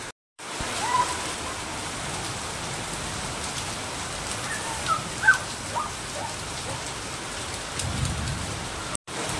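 Rain pours steadily outdoors, a continuous soft hiss with scattered heavier patters and no voices.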